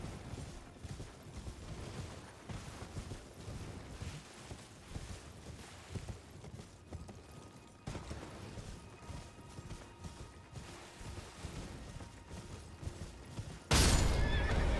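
A horse in the Elden Ring video game whinnies amid clip-clopping hooves and scattered in-game clatter, with moderate level throughout, then a sudden loud burst of noise at the very end.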